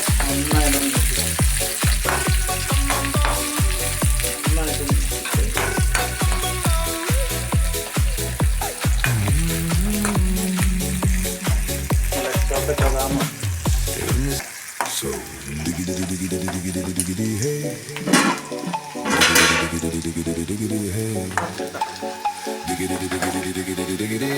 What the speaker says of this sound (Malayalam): നല്ല ഉണക്കമുളക്, വറ്റൽമുളക്, അതിൻ്റെ കൂടെ ചോറുള്ളി ഇടുക.